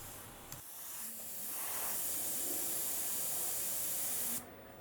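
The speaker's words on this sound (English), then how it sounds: "Moving the airbrush very close to the model, you can apply very thin lines of paint." Airbrush spraying paint onto a scale model from very close range, a steady close hiss that swells within the first second, holds evenly for about three seconds, then cuts off sharply.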